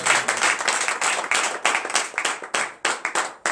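A congregation at a Thursday morning prayer service in Benin claps and acclaims together, a dense burst of rhythmic, uneven hand clapping that rises and falls in loud surges with shouting mixed in.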